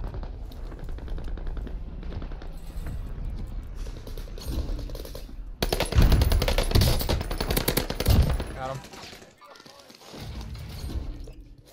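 Rapid SMG bursts in the Warzone video game, loud and dense, with the heaviest volley midway through amid game effects and talking players.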